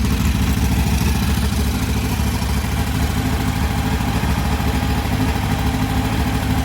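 A VW Type 1 1641cc engine with a Scat C35 cam and ported heads runs loud and close, a dense, steady rumbling idle with fast even firing pulses throughout and no talk.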